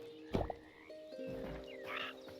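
A toad croaks in the video game Hytale, a few short throaty calls and a sharp click near the start followed by faint game ambience, heard alone and fairly quietly.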